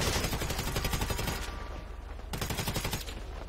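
Rapid automatic gunfire bursts in GTA Online, loud and close, with a brief pause mid-clip before the rattling shots resume.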